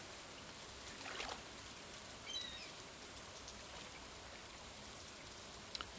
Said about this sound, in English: Nothing quite like fishing on a rainy day.